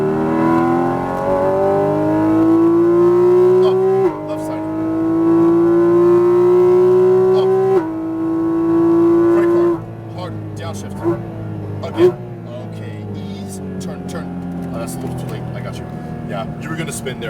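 A Porsche 718 Cayman GT4 RS on a race track at Exotics Racing Las Vegas: loud in-cabin engine rising through the revs in long pulls, dropping at shifts, then easing off with brief blips as an instructor talks over it.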